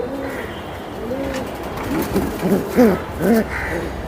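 A Rabbani pigeon coos in a series of soft, rising-and-falling calls, growing louder toward the end with several distinct coos close by, with low background noise and no clear talk.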